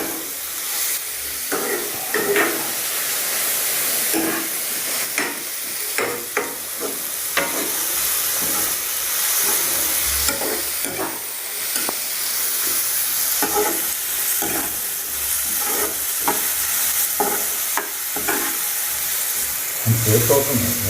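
Onions fry in a pan with a constant loud sizzle and hiss, broken by frequent scraping and clattering stirs throughout.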